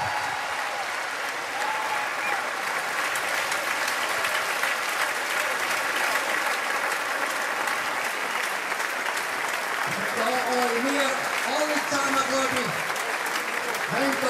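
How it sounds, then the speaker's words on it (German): A stadium crowd at a Swiss wrestling (Schwingen) festival applauds the winner of the final bout, steady dense clapping throughout with someone speaking over it in the latter part. "das ganze Stadion applaudiert"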